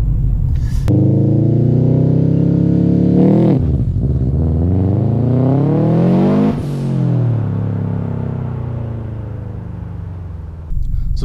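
A Subaru Impreza STI Type UK with a 260-horsepower engine and a 3-inch straight-through exhaust with a 5-inch exit, revving loudly and close up in repeated rising and falling sweeps over a deep, rumbling idle.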